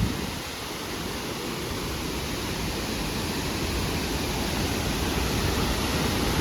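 Waterfall in Mae Hong Son, North Thailand: a dense, unbroken roar of falling water, loud and close, with no voices.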